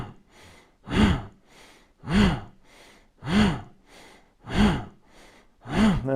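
Forceful abdominal bellows breathing during a yoga practice: sharp, rhythmic breaths pumped out in a steady series of about six strong bursts, each followed by a softer intake, close and alone without speech.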